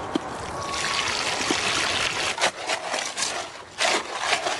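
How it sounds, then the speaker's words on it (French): Sand and gravel being turned and mixed by hand with a shovel for concrete, a steady gritty scraping and shifting with louder scoops and scrapes every second or so, close by with no talking. "Il mélange le sable et le gravier."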